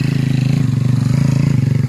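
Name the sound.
motocross dirt bike engine revving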